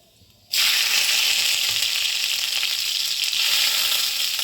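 Garlic cloves dropped into hot oil as the tempering for fried mustard greens burst into a loud, close sizzle that starts abruptly and then holds steady and bright, with no voices.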